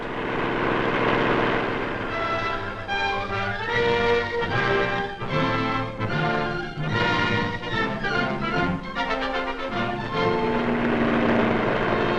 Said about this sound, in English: they use gliders powered by airplane propellers